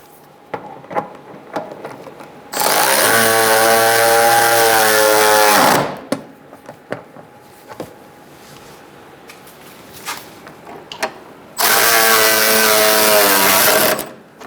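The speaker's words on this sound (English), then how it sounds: "we're going to use a 12mm socket to tighten up these 4 bolts." A 12mm socket tightens radiator mounting bolts on a 2014-2018 Subaru Forester, heard as two loud, close bursts of whirring, each about three seconds long, with the pitch climbing slightly as the bolts seat. Light clicks and handling noises fill the gaps between.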